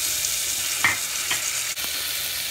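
Spices and ginger-garlic paste sauté in hot oil inside a pressure cooker, a steady close sizzle broken by a few soft stirring scrapes.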